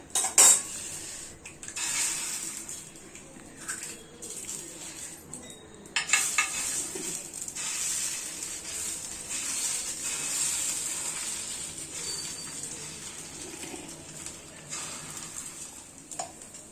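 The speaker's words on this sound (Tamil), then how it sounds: "இப்போ ஃபர்ஸ்ட் ஆம்லெட் போட்டுக்கலாம்." An omelette fries in a pan for a chicken roll, a steady hiss running throughout, punctuated by close clinks and scrapes of utensils against the pan.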